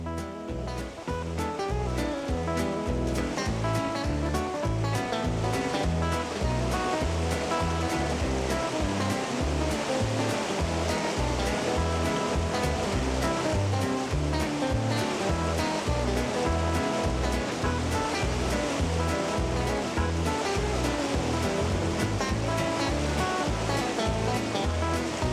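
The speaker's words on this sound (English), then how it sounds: "The rafts set out from Moline Lake and enter the outflow as they start this wild river journey." Wild river rapids in the Canadian Rockies near Jasper, Alberta, at a lake outflow: a continuous loud, close roar of churning whitewater, steady throughout with no voices.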